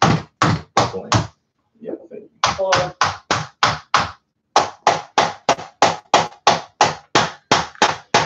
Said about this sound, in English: For every time I hammer this